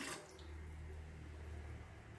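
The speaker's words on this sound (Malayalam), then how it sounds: "ഇനി ഒരു പാത്രത്തിലേക്ക് ഒന്നര ഗ്ലാസ് വെള്ളം ഒഴിക്കാം" A steady stream of water runs and splashes into a container, a continuous close hiss with no voices.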